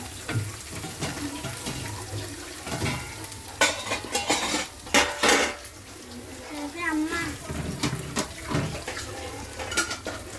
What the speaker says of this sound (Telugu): అల్లం వెల్లుల్లి పేస్ట్, ఉల్లిపాయ ఇలా ఫ్రై అయిన తర్వాత